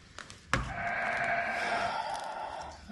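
A sheep gives one long, loud bleat close by on a farm, rising suddenly and then holding steady for about two and a half seconds, with a little faint background noise before it.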